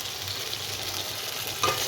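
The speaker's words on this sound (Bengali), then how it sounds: "এর মশলাটা কষা হয়ে গেছে, তেল ছেড়ে গেছে, মাছগুলো দিয়ে দিলাম" Prawns hitting hot, oil-separated fried masala for chingri dopiyaza, giving a steady bright sizzle with a brief sharper flare near the end, close and alone.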